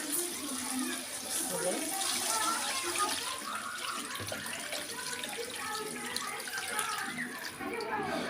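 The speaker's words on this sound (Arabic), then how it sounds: "دلوقتي بقى هنزل بالميه" Water runs steadily into a cooking pot of duck soup, a soft continuous pouring and splashing heard at low level throughout.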